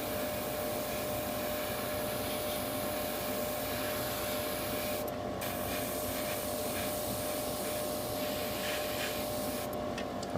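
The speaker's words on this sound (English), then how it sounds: "Remember to go for air first and then the paint, so it also allows you to figure out where the airbrush is pointing before you apply the paint" An airbrush hisses steadily while spraying paint onto parts of a mega-size Gundam RX-78-2 model kit, a continuous close airy rush with a couple of brief breaks.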